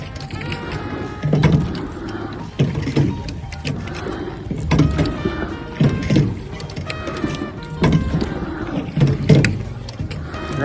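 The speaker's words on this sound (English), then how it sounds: "Rowing is a very meditative activity. Trying to get each stroke right." Oars stroke through the water as a rower pulls a boat along, giving repeated splashing, knocking pulls with wooden creaks in a steady rhythm, close and fairly loud.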